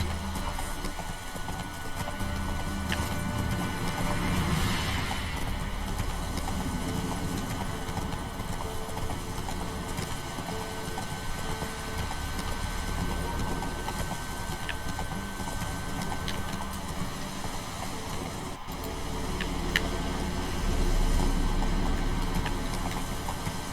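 Galloping horse hooves from The Witcher 3: Wild Hunt, a steady rhythmic clip-clop that runs loud and close throughout, with occasional whinnies and no talking.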